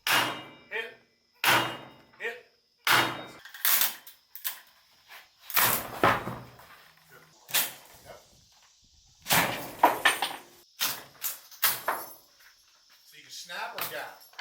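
A fairly solid office door with shims wedged in is forced open during breaching practice, with a series of loud, sharp impacts and bangs spread unevenly over the stretch, close by, with people talking between the hits.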